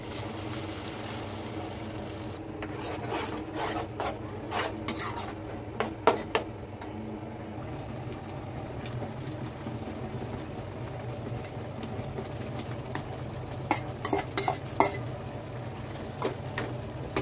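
Boiled potatoes and peas for pav bhaji being mashed with a hand masher in a pot, giving scattered clinks and dull knocks over a steady low cooking hum.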